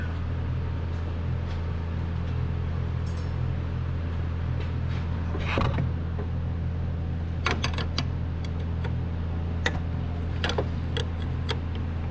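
Metal wrench clicks and clanks as a 12mm wrench loosens the power steering pump bolts on a 2007 Honda CR-V, a scattering of sharp ticks over a steady low engine-bay hum, with no talking.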